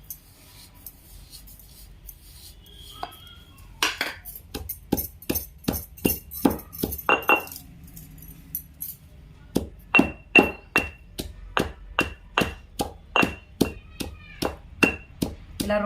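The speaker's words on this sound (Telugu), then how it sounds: "ఇలా రోట్లో వేసుకొని దంచుకుంటే ఎల్లిపాయ కారం చాలా టేస్ట్ ఉంటుందండి." Garlic, salt and chilli are pounded by hand in a stone mortar, giving a long run of sharp, steady thuds with a clinking edge. The strikes start sparse, then settle into a regular beat, loud and close, with no voice over them.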